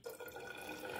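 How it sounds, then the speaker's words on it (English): Twenty millilitres of water is poured into a solution in an ethanol fuel test, giving a brief, faint, close liquid splash and trickle with no talk. "Now we are going to put this 20 ml of water"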